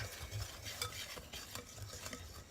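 An herb seasoning blend with sage for savory biscuits gets stirred in a bowl, giving a soft continuous scraping and rustling, quiet and close, without any talk.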